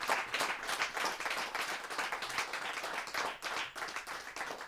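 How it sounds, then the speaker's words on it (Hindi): At a Hindi poets' gathering, an audience claps in welcome. Brisk, fairly distant applause runs steadily for several seconds, swelling and dipping slightly, with no speech. "जोरदार तालियों के साथ स्वागत करें।"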